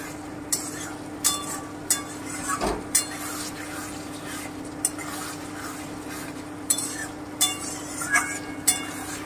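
A spoon stirs and scrapes masala sautéing in a pan for saffron mutton korma. Intermittent scraping and clinking strokes repeat at an uneven pace over a soft background sizzle, close and moderately loud.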